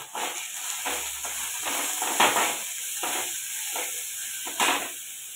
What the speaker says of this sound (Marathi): तर आता मिरची छानपैकी अशी परतून घेते